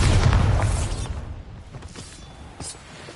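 A Bombarda spell explosion in Hogwarts Legacy, a heavy booming blast right at the start that rolls off into creaking, clattering debris and a fading rumble.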